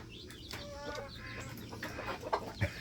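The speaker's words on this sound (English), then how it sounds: "Baby chickies all in here." Baby chicks with their mother hen in a coop, giving a steady stream of high, thin peeps and chirps, fairly close, with soft clucks and light shuffling mixed in.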